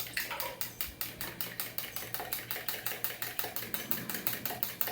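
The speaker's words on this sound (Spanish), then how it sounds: "Es disolverla con el tenedor." A fork beats and dissolves a mixture in a lab vessel, giving a fast, steady train of sharp clinking strokes, about five per second, close and fairly quiet, with no talking.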